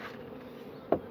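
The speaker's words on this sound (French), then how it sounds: "Il y a un peu d'abeilles par terre." Honey bees buzz steadily around a nucleus hive, a soft continuous drone close by, ending with a brief louder burst near the close.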